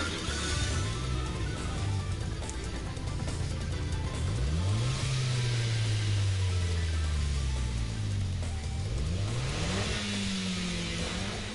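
Renault Clio Cup race car in Gran Turismo Sport, its engine revving repeatedly in rising and falling sweeps, loud and up close with no talk.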